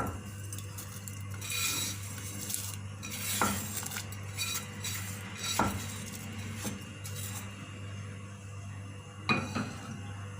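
Vermicelli and dry fruits stirred into a pot of sweetened milk during Eid cooking: a steady low simmering hum with occasional clinks of a spoon against the pot, fairly quiet and with no talking.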